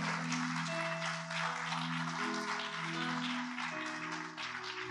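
A church congregation claps steadily together after a pastor's call during a sermon, a dense, continuous wash of applause with a sustained tonal music or organ bed underneath.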